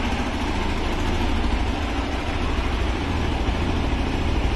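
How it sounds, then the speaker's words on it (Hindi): A motorbike engine idles steadily after a cold start, a continuous loud, even rumble with no change in pace and no voices. "ये मेरी बाइक कोल्ड स्टार्ट हो चुकी है, क्योंकि थोड़ी देर कोल्ड स्टार्ट करके रखना पड़ता है"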